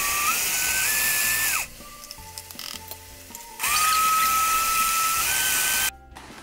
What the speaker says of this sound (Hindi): अब हम थोड़ी थोड़ी दाल मिक्सर के बड़े जार में डालकर दो कटी हुई हरी मिर्च के साथ थोड़ा पानी डालकर